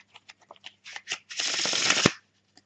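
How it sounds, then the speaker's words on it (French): Playing cards mixed face up and face down, a few soft riffles and taps building into one long, close, dense shuffle that ends in a sharp snap, then near silence. "je vais mélanger les faces visibles avec les faces cachées"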